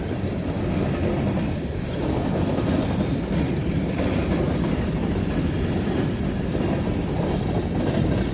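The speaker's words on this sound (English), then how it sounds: "This is a long train." A long train rolls steadily past, its rail cars keeping up a loud, continuous rumble with a faint clickety-clack of wheels on track from start to finish.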